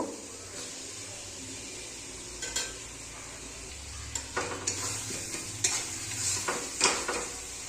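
Fried potatoes being stirred into a sizzling masala in a pan for a rohu fish and cauliflower curry, with a steady hiss of frying and intermittent louder scrapes and clinks of the spoon, close by with no talk.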